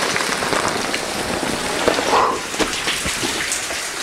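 Heavy rain pours steadily and loudly near a mine adit, a dense continuous hiss of drops hitting surfaces with no voices.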